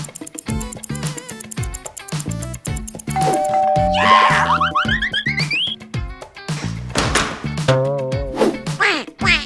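Cartoon duck quacking in a Christmas-themed animated scene, a run of bright, nasal squawks and quacks mixed with music and sound effects, loud and up front with no talking.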